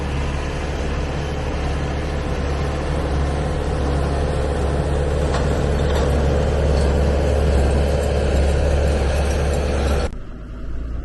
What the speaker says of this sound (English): this little orchard tractor pulling the baler